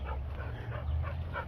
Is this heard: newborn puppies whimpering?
yes